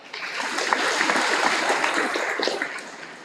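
Sustained applause from a career fair audience for a guest speaker, a thick, even wash of many hands clapping at moderate loudness for a few seconds before tapering slightly.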